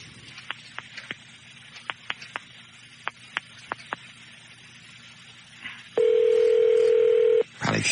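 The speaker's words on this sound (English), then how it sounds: "Can I dial long distance in here? I can? Yeah, just dial straight out." Telephone line being dialed: a dozen or so short DTMF key beeps in an irregular sequence over a faint background hum, then a loud steady tone lasting about a second and a half, followed by a brief click.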